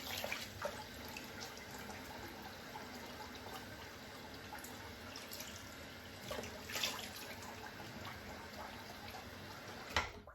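Water runs steadily from a faucet as shave soap is rinsed off, a faint continuous splashing wash with a few louder splashes near the end.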